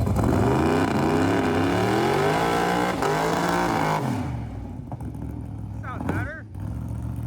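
A car nicknamed Sugar Mama, running loaded up on fuel, is revved hard and held at high revs for several seconds before the engine note drops back, followed by a few quieter mechanical noises close by.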